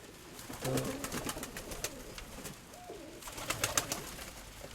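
Pigeons coo close by in a few soft, low, rolling calls separated by pauses, with faint background noise.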